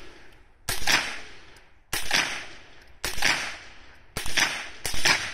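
Five sharp gunshots fired one at a time at targets on an outdoor shooting range, each a loud crack with a decaying tail, spaced about a second apart with the last two closer together.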